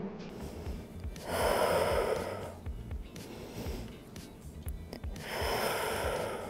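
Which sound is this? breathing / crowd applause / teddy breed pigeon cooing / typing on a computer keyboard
breathing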